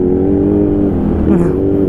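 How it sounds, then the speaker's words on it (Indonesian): A Kawasaki Ninja H2 motorcycle engine drones at high revs near the limit, steady and loud, with a slight surge near the end, at a wedding. "baru hari ini kita geber sampai limit-limit"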